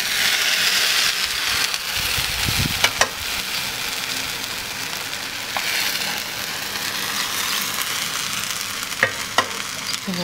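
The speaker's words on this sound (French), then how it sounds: "Je vais commencer à arroser le qalb tout doucement à l'aide d'une louche." Syrup is ladled over a qalb ellouz semolina cake and soaks in, making a steady, close fizzing and sizzling hiss with a few soft clicks and knocks scattered through it.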